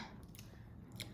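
Someone takes a bite of a cookie during a sweet-and-sour eating game, giving a short, close crunch followed by a crisp snap near the end.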